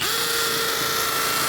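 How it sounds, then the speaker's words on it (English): A hammer drill runs steadily in a short, continuous burst with a high whining tone and a buzzy rattle, close and fairly loud, with no talk over it. "that's what hammer drill's supposed to sound like"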